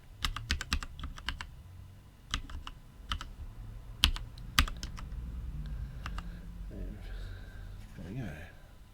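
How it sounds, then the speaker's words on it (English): Rapid keyboard typing in bursts of clicky keystrokes, close by, with a low background hum and soft sounds toward the end. "Oh, that's pretty shocking typing."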